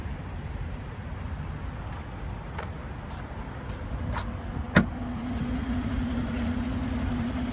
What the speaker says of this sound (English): And there's that 3-liter twin turbocharged inline-6.